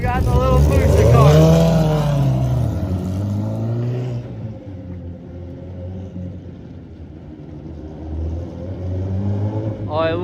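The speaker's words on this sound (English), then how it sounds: "Just two motors absolutely ripping." A mini truck powered by two motors accelerates hard, the engines revving up in a loud rising roar that fades as it pulls away and then swells again, with excited voices over it.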